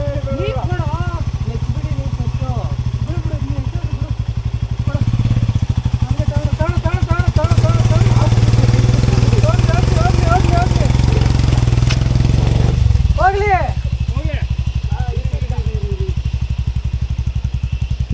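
A motorcycle on a muddy monsoon off-road trail is started and revs unevenly, its engine loud and close throughout, while several people shout and talk over it.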